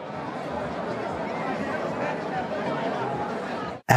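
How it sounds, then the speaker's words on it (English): Steady crowd chatter fills the space, a dense wash of many overlapping voices with no single speaker standing out, holding an even level for nearly four seconds before cutting off abruptly. "this is what the sound of a crowd sounds like"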